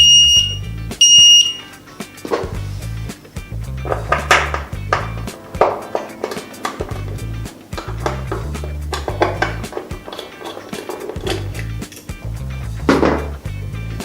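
A DG 185 digital keypad gives a couple of short electronic beeps at the start, followed by a series of light plastic taps and clicks as its keys are pressed, fairly close.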